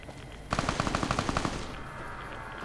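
Enemy gunfire in the video game Fallout New Vegas comes as a rapid automatic burst of about a dozen evenly spaced shots lasting roughly a second. Steady game ambience sits underneath and carries on after the shots stop.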